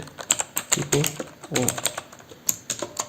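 Typing "@echo" on a computer keyboard while editing a batch file: a quick run of light clicking keystrokes in an irregular rhythm, close and fairly clear, with a brief low voice murmur in between.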